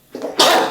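A single sharp human sneeze, close and loud, with a brief in-drawn breath followed by an explosive burst of air, lasting under a second.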